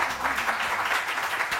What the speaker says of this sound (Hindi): और हमारे सबाहत के लिए पहले तालियां।